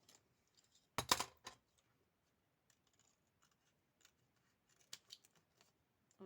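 Scissors cut paper on the bias while folding a pocket for a gardening kit. A quick cluster of crisp snips comes near the start, and a few lighter snips follow later. Otherwise the room is quiet and nobody speaks.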